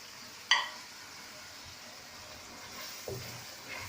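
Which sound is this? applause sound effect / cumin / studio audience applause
cumin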